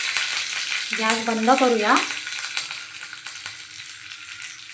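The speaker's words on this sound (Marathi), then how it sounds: "मोहरी पहा छान फुलत आले, त्यामध्ये बारीक करून घेतलेला कढीपत्ता घालूया।" Mustard seeds and curry leaves crackling in hot tempering oil, a close, steady sizzle with sharp pops throughout; someone speaks briefly partway through.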